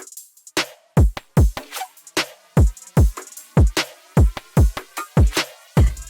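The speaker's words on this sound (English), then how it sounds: "The drums are just from random cymatics packs, and they sound like this." Punchy drum samples from Cymatics packs play a quick beat for a future bass track, hard kick thumps with booming low tails alternating with snappy hits and light top-end ticks, loud and dry with no talk.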